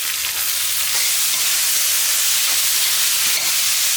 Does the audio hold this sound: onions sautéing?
yes